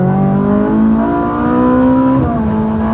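A Ferrari engine accelerating through the gears, a loud, close, steady engine drone whose pitch climbs and then drops briefly at a shift, heard alone.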